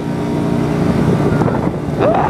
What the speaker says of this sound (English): I got so much wind!